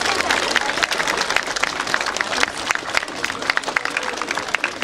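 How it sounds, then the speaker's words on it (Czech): Applause for an engineer at the ceremonial opening of an outdoor swimming pool: a crowd claps steadily and densely for about five seconds, with scattered sharper claps standing out. "takže taky pro ní potlesk"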